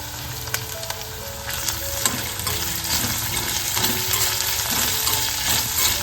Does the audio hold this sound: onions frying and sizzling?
yes